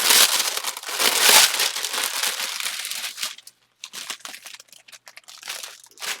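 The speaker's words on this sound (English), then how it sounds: "Sorry about the crinkling." Plastic packaging of a Love Story craft bundle crinkles loudly and close. Dense crackling gives way to sparser, intermittent rustles with short silent gaps between them.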